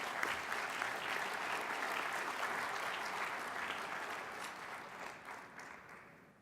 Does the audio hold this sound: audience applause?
yes